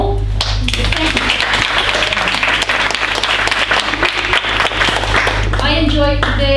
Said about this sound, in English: it would not be out of place to do a round of applause first for our Kirsten for making this all possible